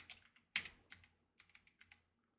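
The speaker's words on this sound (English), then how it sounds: "And I'm just going to type in Jingle" A few keystrokes tap on a computer keyboard, quiet close clicks in a short irregular run with one louder key press, no voices present.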